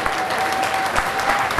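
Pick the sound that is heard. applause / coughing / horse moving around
applause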